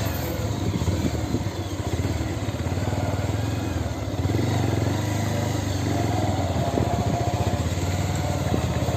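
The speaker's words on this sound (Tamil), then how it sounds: "இப்போ நம்ம செகண்ட் கியரில் வண்டி இருக்குது." Pulsar 150 motorcycle under way in a lower gear, its engine giving a steady close putter with a fast pulsing rhythm, a slight change in pitch midway as it shifts, and wind noise underneath.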